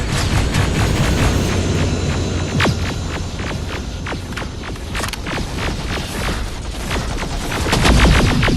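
Rapid, dense gunfire fills a Terminator video game battle, with sharp overlapping shots and bursts over a low rumbling hum. The shooting is loud and almost constant throughout.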